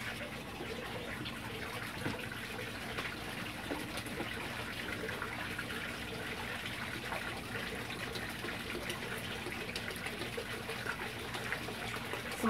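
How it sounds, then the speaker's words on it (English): Clone solution is poured from a bottle into a fogponics machine, giving a steady, faint, continuous liquid gush that runs alone for the whole stretch. "we're going to pour that clonics clone solution"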